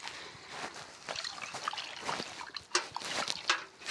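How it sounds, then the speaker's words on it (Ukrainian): Water pours into a cast iron pot holding potatoes, a faint uneven trickle and splash with a few brighter sloshes near the end, heard alone and fairly quiet. "Далі потрібно залити водою в чигун, там де є картошка."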